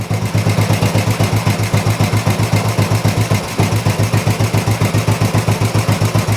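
An old Royal Enfield 350 motorcycle engine runs nearby and loudly, its single-cylinder beat thumping in a steady, even rhythm with one brief stumble partway through.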